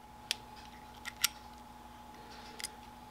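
A 13mm wrench works loose a fitting on a Fox Body Mustang with an On3 turbo, giving a few sharp metallic clicks and ticks at irregular intervals over a steady low hum, close and fairly quiet.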